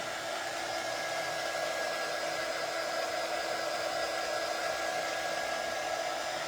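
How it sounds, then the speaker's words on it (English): A hair dryer blows steadily at close range on a truck door hanger, a constant even whoosh with no breaks and no voices. "I'm going to hit it with the dryer"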